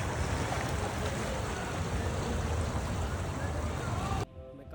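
The Ganges river flows at Rishikesh as a steady, loud broadband rush of water, close by and unbroken for about four seconds before cutting off abruptly, with no talking.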